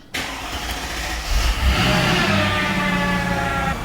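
A low-mileage Mercedes CLK 55 AMG, nearly out of fuel, cranks briefly and then catches. It settles into a loud, deep, steady idle up close, with no voices.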